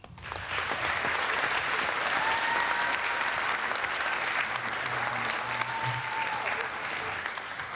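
An audience at a Sukkot program presentation breaks into sustained applause, dense and even clapping that continues for several seconds, with a faint voice briefly audible beneath it.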